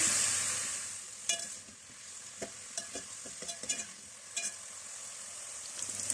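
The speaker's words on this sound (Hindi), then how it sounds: "इसकी ये सारी प्याज हम इसमें डाल के इसको लाइट गोल्डन होने तक फ्राई कर लेंगे।" Finely chopped onions sizzling in hot oil, a steady close frying hiss broken by scattered stirring scrapes and clicks of a spoon against the pan.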